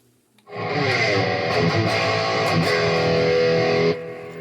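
A sustained, fuzzy overdriven electric guitar chord through a Boss OD-1 pedal rings out steadily for a few seconds, thick and saturated, then cuts off abruptly.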